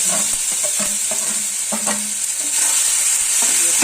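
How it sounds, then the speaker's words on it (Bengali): Roasted tomato and eggplant get stirred into onions and garlic frying in a pan for baingan bharta, a steady close sizzle with repeated scraping knocks of the spoon against the pan. "এবার আমি টমেটো পোড়া আর বেগুন পোড়াটা ওর মধ্যে দিয়ে দিচ্ছি"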